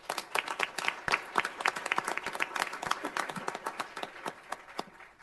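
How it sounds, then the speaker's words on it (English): Applause from a city council meeting audience, distinct individual claps rather than a dense roar, suggesting a modest group clapping steadily for about five seconds at moderate loudness. "Take some round of applause."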